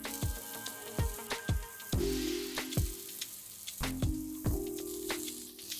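Moong dal and masoor dal are stirred in a pressure cooker, a spoon scraping and clinking against the metal in a steady rhythm of repeated strokes over a faint sizzle.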